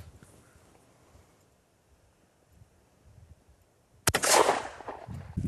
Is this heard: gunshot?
yes